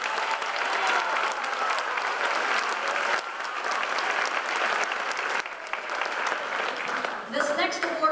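A school auditorium audience applauds steadily at a junior high academic awards ceremony, dense sustained clapping filling the room throughout, easing slightly near the end.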